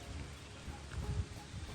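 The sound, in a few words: rain falling outside a shuttle bus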